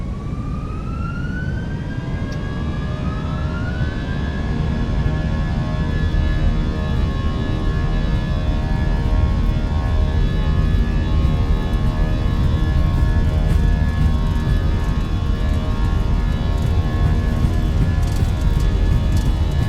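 Fenix Airbus A320 jet engines spool up from a rising whine to a steady loud roar with sustained high tones during the takeoff roll in MSFS 2024, continuous and close with no talking.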